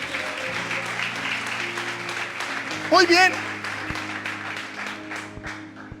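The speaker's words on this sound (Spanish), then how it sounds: "Dele un aplauso al Señor" A church congregation claps, a dense patter of applause running beneath someone speaking loudly over it, with a brief louder vocal burst partway through.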